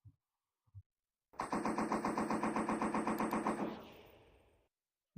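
A light machine gun in the VRChat shooting game fires one sustained burst of rapid, evenly spaced shots lasting about two seconds, then a fading echo, with brief faint sounds before it.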